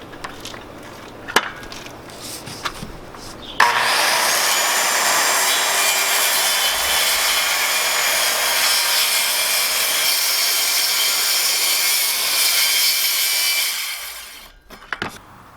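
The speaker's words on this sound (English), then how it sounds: "I've got an old hacksaw blade." An old hacksaw blade trims excess foam on a teardrop camper build, giving a steady, close rasping scrape that runs continuously for about ten seconds before fading out, with no talk.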